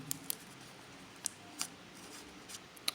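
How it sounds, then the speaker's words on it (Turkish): Faint, sparse clicks and light crackling as a Dorco Prime half razor blade is unwrapped from its paper packet, a few sharp ticks spread over a quiet room background. "Hemen bir yarım jileti açalım."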